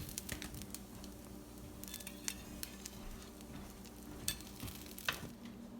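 Sea bass or porgy fish cooking on a griddle: quiet, steady sizzling with occasional scraping and tapping clicks from a utensil, and no one talking.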